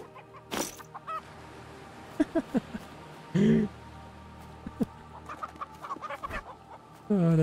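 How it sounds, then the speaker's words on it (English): Chickens cluck in the survival video game Breakwaters, with scattered short clucks and squawks, a couple of louder bursts, over a faint ambient game background. "Chicken."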